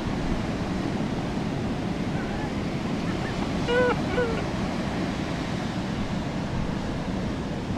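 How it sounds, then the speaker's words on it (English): A big ocean swell rolls in along a northern coastline, a steady, broad roar of surf mixed with wind buffeting the microphone. A few faint bird-like chirps show up briefly midway through. "here's a big swell rolling in"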